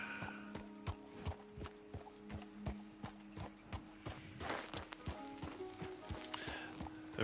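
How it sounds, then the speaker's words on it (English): Horse hooves in Red Dead Redemption 2 clip-clop in a steady, close, even gait, with a brief neigh, over sustained ambient tones in the background. "Surprised the horse made it over here that quickly"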